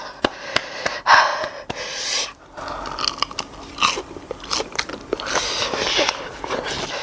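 Loud, close crunching bites into a very spicy crispy fried pork cutlet, with sharp crackles and chewing, interspersed with breathy exhales and no talking.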